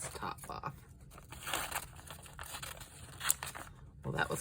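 Paper being cut with scissors while assembling a Hansel and Gretel themed handmade journal, with crisp snips and crinkling rustles scattered through close, quiet handling.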